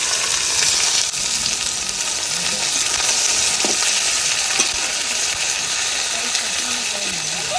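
Onions browning in hot oil in a pan with whole cumin, bay leaf and dried red chilli, cooked as a base for goat meat curry, give a steady, loud, close sizzle with a few faint stirring scrapes and no talk.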